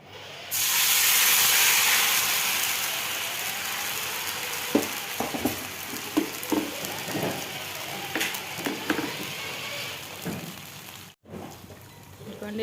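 Rava dosa batter hits a hot pan with a sudden strong sizzle that gradually eases into softer hissing, broken by light clinks and scrapes, while someone talks quietly nearby.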